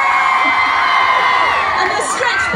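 Large outdoor crowd cheering and whooping at the Plymouth Christmas lights switch-on, a dense continuous roar of many voices with children's shouts rising above it, loud and close throughout.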